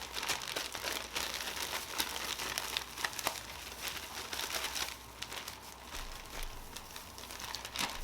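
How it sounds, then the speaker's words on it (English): Crab-stuffed catfish rolls shaken in a bag of fish fry make a steady crinkly rustle of plastic and coating that runs through the whole stretch at close range without pause. "I'm gonna toss them in the bag with my fish fry and get them nice and coated"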